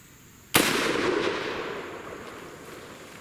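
A single loud .50 Beowulf rifle shot fired over a chronograph outdoors, one sharp blast followed by a long rolling echo that fades over several seconds.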